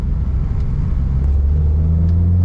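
Honda Civic Ferio fitted with a 4-1 header revving under throttle in second gear, a low steady rumble from nearby that holds and slightly rises in pitch toward the end.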